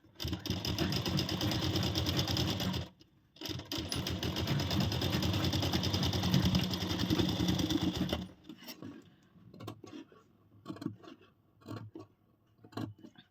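A sewing machine stitches the neck of a broad princess-cut blouse in a fast, steady whirring run. It pauses briefly, resumes, and then stops, followed by scattered clicks and fabric handling.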